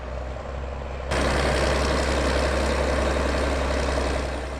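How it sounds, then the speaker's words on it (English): A New Holland T8040 tractor working a grass silage clamp gives a steady, loud, low exhaust burble and engine rumble that swells noticeably stronger after the first second and holds continuously. "The tractor can already be described as a modern classic perhaps, and its exhaust produces a lovely burble."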